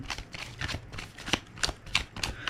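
Tarot cards are shuffled for a love horoscope reading: a close, rhythmic series of papery riffles and flicks in quick repeated bursts, with no talk over them.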